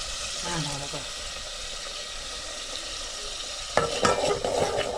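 A spiced ground masala paste for crab curry is stirred and fried in a pan, a steady sizzle under the scrape of a spoon, with a few louder clattering stirs near the end and faint voices in the background.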